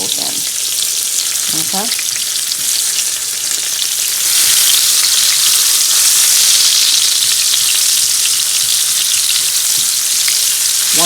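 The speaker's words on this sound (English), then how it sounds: "I'm going to go ahead and start to cook my tomatoes for a few minutes" Tomatoes frying in a pan for cabbage and saltfish, a loud, steady hiss of sizzling that swells midway, with a few stirring scrapes and one brief spoken word.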